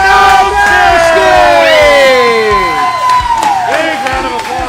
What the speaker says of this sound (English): Big round of applause for Mike.